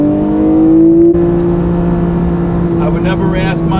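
A Porsche 911 GTS engine is held at high revs near the red line, giving a loud, sustained steady drone from inside the car that eases slightly near the end as a voice speaks.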